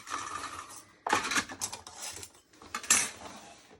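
A die cutting machine grinds and rattles in loud bursts, with metallic clattering and scraping as paper is fed through, pausing briefly between passes.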